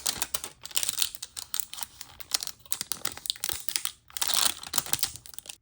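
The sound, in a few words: peeling tape off a UV resin bookmark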